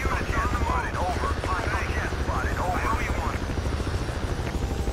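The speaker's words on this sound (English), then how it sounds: "Chopper, taking off," A helicopter lifts off in the Battlefield 2 video game, its steady rotor thump and engine drone mixed with gunfire-like bursts, while players talk over it.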